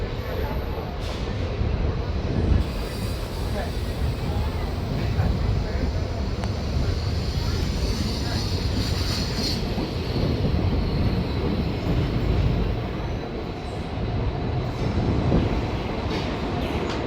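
The Siliguri–Bamanhat InterCity Express pulls out of Rajabhatkhawa station beside dense Dooars forest. A loud, steady rumble and clatter of wheels and carriages fills the whole stretch, heard from on board.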